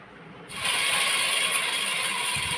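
A sewing machine starts up and stitches fabric for a pair of trousers, giving a close, continuous mechanical whir that holds steady to the end, with no talk.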